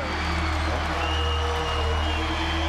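A basketball arena crowd at a Lakers game roars steadily as Kobe Bryant builds toward 47 points. Dense, continuous cheering and applause fill the clip, with a commentator's voice faint underneath.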